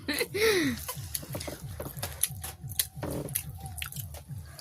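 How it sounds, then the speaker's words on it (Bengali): Oil-fried pitha rice cakes being eaten up close, with soft rhythmic chewing and occasional bites repeating steadily throughout, a brief voice sounding early on. "আমরা খেতে থাকি"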